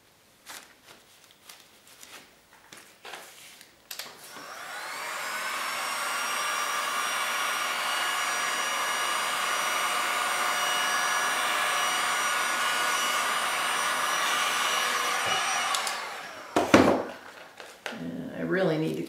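A heat tool blows steadily to warm poured resin during color mixing, a loud continuous whooshing roar lasting about eleven seconds, framed by brief handling clatter and rustle before and after.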